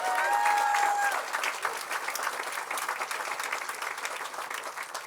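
A crowd at a press conference breaks into sustained applause, with dense clapping that starts loud and then tapers slightly while continuing to the end.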